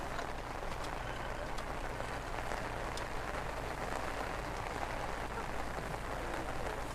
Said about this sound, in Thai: กลัวฝนไหมลูก